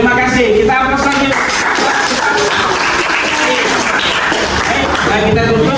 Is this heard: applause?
yes